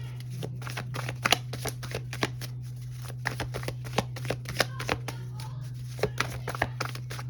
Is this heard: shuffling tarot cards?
yes